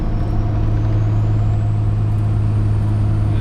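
A Ram 2500 pickup with a 5.9 Cummins diesel and 48RE automatic tows a heavy load of about 20,000 pounds. The engine holds a loud, steady low drone, constant and close, with no one speaking.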